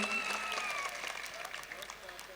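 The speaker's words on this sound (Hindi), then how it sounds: "जितने लोग चाहते हैं एक बार तालियां बजा के मुझे बताइए" An audience at a Hindi comic poetry gathering breaks into applause, a dense patter of claps under a voice that fades as the clapping thins.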